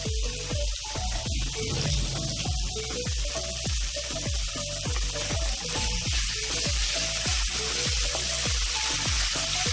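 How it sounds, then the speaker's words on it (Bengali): Soya chunks lightly frying in a pan for an egg-soya chowmein with hakka noodles, a steady close sizzle with repeated soft scraping strokes of stirring throughout, no talking. "হালকা ফ্রাই করে নেব।"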